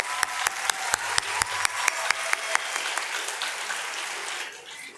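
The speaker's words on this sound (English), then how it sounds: "let's put our hands together in a round of applause for the volunteers here today" An audience gives a round of applause at a live evening concert event in Miami, with sharp distinct claps standing out over a steady clapping wash that fades near the end.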